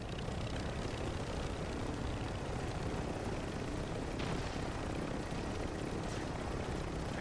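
A helicopter in Call of Duty Warzone on Rebirth Island produces a steady, fairly faint rotor and engine drone that holds even throughout, with a couple of soft passing whooshes.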